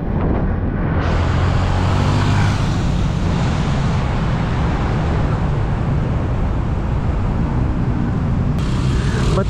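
Steady, loud traffic roar on the Santolan flyover along EDSA, a continuous rumble of engines and tyres with no pauses and no talking.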